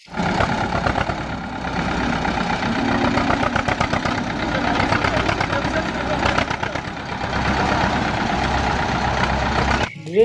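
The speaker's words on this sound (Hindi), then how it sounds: "वाओ ये है ट्रैक्टर" A green tractor engine idles with a steady, rough, knocking mid-range rumble that runs loud and continuous for about ten seconds before cutting off abruptly near the end.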